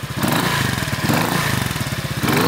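Honda PCX 125 scooter (JF81, lowered) with a Yoshimura muffler revs up close by, a loud, deep, steady engine drone with a rapid firing pulse that holds for about two seconds before easing off at the end.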